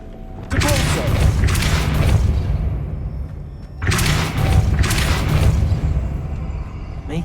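Two heavy magical blasts of the Depulso spell in Hogwarts Legacy, each a loud broadband whoosh-and-thump lasting about three seconds, separated by a short lull over a low rumbling game ambience.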